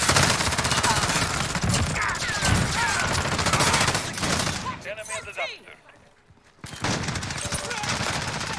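Sustained rapid gunfire and loud fusillade fill the scene in Call of Duty Modern Warfare on the Shipment map, dense and continuous, dropping away briefly before the shooting resumes.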